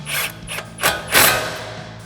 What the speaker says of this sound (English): Tighten that back down with our 12mm socket